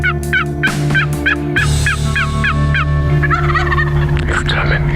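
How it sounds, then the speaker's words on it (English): Wild turkey gobbling close by in answer to a hunter's call, a rapid series of loud, rattling gobbles with a low mechanical hum underneath and no talk. "John hits his call and the bird gobbles"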